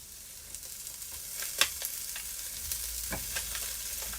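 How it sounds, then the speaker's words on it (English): Already-cooked salmon gently sizzles as it is rewarmed in a pan for teriyaki noodles, a soft steady frying hiss broken by light clicks and stirring taps. "The salmon's already been cooked, so you're just warming it back through again"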